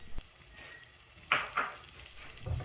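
Shallots and peppercorns fry in a pan of butter and oil, giving a soft, low sizzle with a few brief brighter crackles and spits near the middle. No one is talking.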